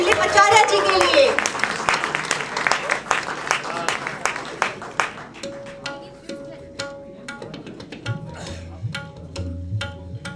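An audience at a book release ceremony claps, loud and dense at first, then thinning into scattered claps under music, with no voices over it.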